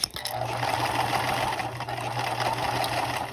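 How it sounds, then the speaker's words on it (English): A sewing machine top stitches fabric bonded with Heat n Bond, a steady close mechanical whir with a fast needle rhythm running throughout after a brief click at the start. "I'm sewing it, top stitching it 1/4 of an inch."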